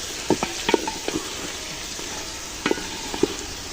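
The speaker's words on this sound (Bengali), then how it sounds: "এখন ডাইলগুলা দিয়ে দিলাম চার রকমের ডাল" A spoon scrapes and clinks through four kinds of lentils in a pot for khichuri, over a steady sizzle, with scattered light taps and strokes close by.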